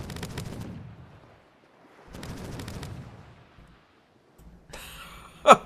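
Bursts of gunfire in the pirate game Caribbean!, heard as two separate rumbling volleys of rapid shots at moderate distance, followed by quiet and then a sharp bright crack at the end.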